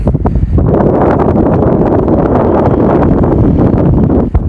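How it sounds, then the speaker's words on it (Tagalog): Loud, constant strong wind buffeting the microphone in the mountains of Atok, Benguet, a steady roaring rush with no talk. "Lakas na hangin."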